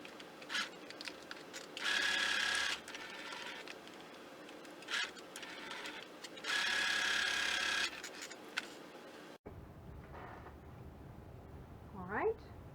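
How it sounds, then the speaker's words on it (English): A sewing machine stitches a patchwork project bag in two steady whirring bursts, each about a second long, then a higher whine; a person talks between and around the runs. "now I'm going to sew 1/4 inch away from the edge across the top"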